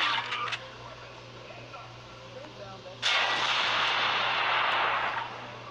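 Gunshots in the tactical shooter game CS:GO, with a short sharp burst at the start, then a loud shot whose echoing boom lingers for a couple of seconds over a low steady hum.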